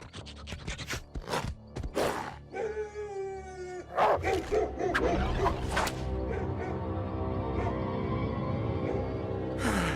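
Hunting dogs in a cartoon bark and howl in a quick, loud burst with whip-like cracks, then an ongoing scuffling, rumbling clamor of the chase.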